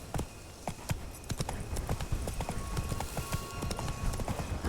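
Roach, Geralt's horse in The Witcher 3, gallops in a fast, even clip-clop of hooves, close and steady throughout, with faint game ambience underneath.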